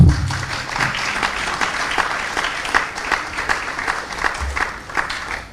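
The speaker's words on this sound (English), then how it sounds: "I think you can clap." Studio or event audience clapping during a business news programme, a sustained round of applause at moderate volume with distinct individual claps popping through.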